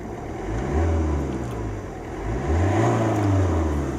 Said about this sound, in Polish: posłuchamy jak silnik chodzi